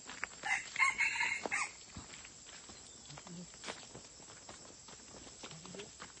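Wild jungle fowl crowing on a hunt in the forest, one loud cock-a-doodle-doo call early on, followed by quiet rustling and footsteps through undergrowth.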